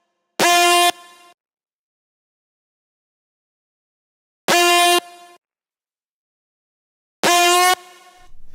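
Synth patch from a Serum soundbank with pitch bend on overlapping notes: three short, loud, brassy horn-like stabs, the last bending in pitch, separated by silence.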